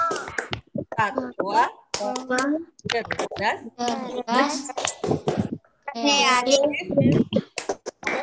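Children and a teacher do a rhythmic clapping chant at an Islamic school lesson, sharp claps and snaps falling in time with the chanted words throughout.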